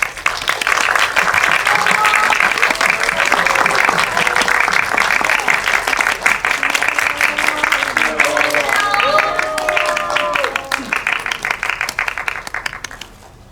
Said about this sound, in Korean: 큰 박수로 환영해 주세요